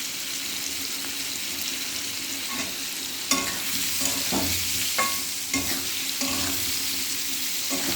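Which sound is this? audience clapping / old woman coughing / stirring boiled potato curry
stirring boiled potato curry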